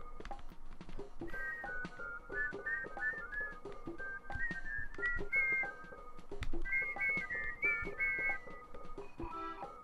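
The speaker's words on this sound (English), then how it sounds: "Ah, whistles." Someone whistles a cheerful melody in the video game EarthBound, in short bright phrases over light tapping game sounds, fairly quiet and steady throughout.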